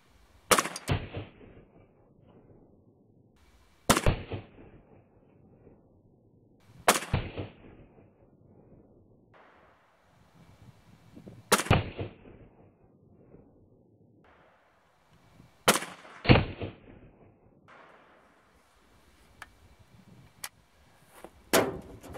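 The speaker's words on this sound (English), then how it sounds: "what I'm going to do is put 5 shots into each of them. This is the first one is the plated bullet" Five sharp gunshots, plated bullets fired into a log outdoors, spaced several seconds apart, each a loud close crack with a short fading tail, followed by faint clicks and handling noise.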